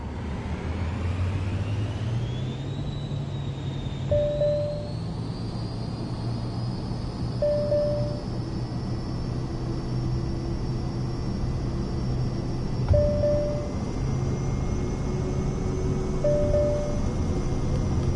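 Aircraft engine at full throttle during takeoff in Microsoft Flight Simulator 2024, a steady loud drone with rising pitch as speed builds, with short cockpit beeps repeating at intervals.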